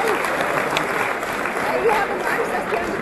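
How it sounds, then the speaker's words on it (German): A crowd applauds a performing group, the Rollner from Leithofen, with broad, even clapping throughout and faint voices mixed in under the noise. "Ein riesen Applaus für unsere Rollner aus Leithofen."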